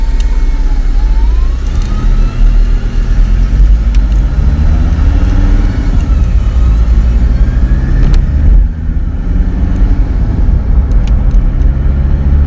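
A car on its first drive after an engine rebuild with a new flywheel, clutch and hydro mount, its engine loud and close, rising and dropping in pitch as it changes gear around 2,200 RPM, with a steady road rumble underneath.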